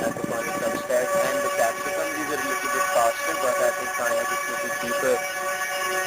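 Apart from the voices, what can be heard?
train passing nearby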